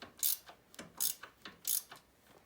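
A bolt on the shock absorber of a 2005 Honda CRF70F is tightened with quiet, close ratcheting clicks. The clicks come in about three short, sharp bursts separated by softer clicking.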